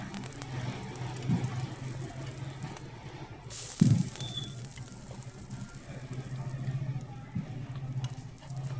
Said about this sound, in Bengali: দেখুন দুটো পিঠি খুব ভালো করে আমি লাল লাল করে ভেজে নিচ্ছি।